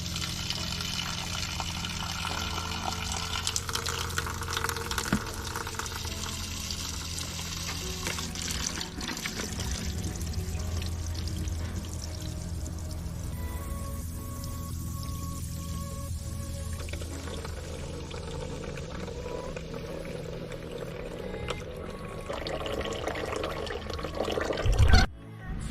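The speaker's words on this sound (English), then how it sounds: "Lots of water. Fresh water, not very salty." Water drains steadily out of a hurricane-damaged Grady White 282 boat, a continuous splashing trickle and pour that runs for about twenty-five seconds at an even level before a brief louder clatter at the end.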